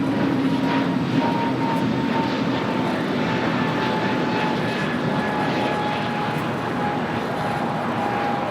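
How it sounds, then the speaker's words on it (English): A Japan Airlines Boeing 777-300ER arriving at LAX from Tokyo Haneda gives off a loud, continuous jet-engine roar with a steady whining tone laid over it, heard close and alone. "Japan Airlines, the One World livery, Flight 16, 777-300ER, coming in from Tokyo Haneda"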